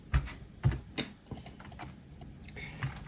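Computer keyboard keys are tapped in a short irregular burst of crisp clicks, several quick presses of shortcut keys close up with no talking.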